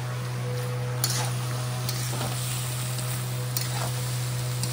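A spoon stirs sweetened rice for Bengali Basanti Pulao in a pan, giving soft scraping strokes and a few light clinks over a steady hum and faint sizzle, with no talk.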